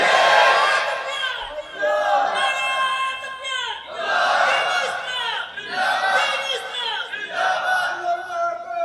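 A large crowd at a Bangla religious sermon gathering in Sylhet roars the Allahu Akbar chant in loud, repeated surging waves of massed voices, each call swelling and fading.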